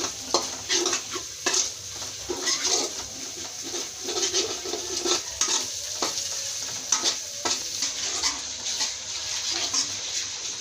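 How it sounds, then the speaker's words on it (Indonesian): Spice paste frying with bay leaf, lemongrass, galangal and lime leaves, stirred in a pan: close, steady sizzling broken by repeated spatula scrapes and clacks in an irregular rhythm, with no voices. "Aduk hingga bumbunya matang sempurna."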